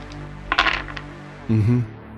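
Dice for a tabletop role-playing game clatter in a short burst of several quick hits, followed by a duller rolling rattle that settles, heard close with no talk.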